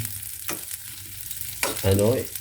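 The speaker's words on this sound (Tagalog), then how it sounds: "gisa-gisa muna ang fishball bago yung isa" Fishballs being sautéed in a frying pan give off a steady sizzle broken by a few scraping stir strokes, with a louder burst of frying near the end.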